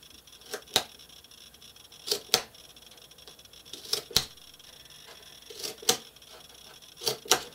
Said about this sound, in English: I'll just come in here with my scissors and make some snips.